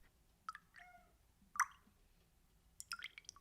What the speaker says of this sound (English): I love how the milk drops in.